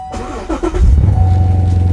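A Chevrolet C7 Corvette convertible's V8 engine cranks and fires up, settling into a deep, loud rumbling idle with a low throaty growl.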